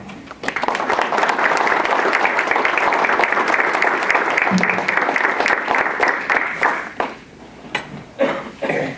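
An audience at a community Eggs & Issues event breaks into sustained, dense applause welcoming Dale, loud and close, fading away over the last couple of seconds.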